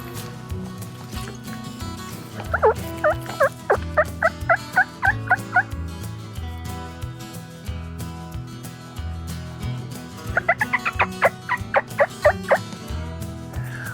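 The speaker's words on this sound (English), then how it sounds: "these turkeys are close by" Two bursts of rapid, rattling turkey gobbles ring out a few seconds apart over a low outdoor rumble, fairly close by.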